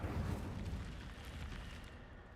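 Incendio fire spell cast in Hogwarts Legacy, a dense roaring burst that swells at once and rumbles on steadily for a couple of seconds, loud and close with no voices.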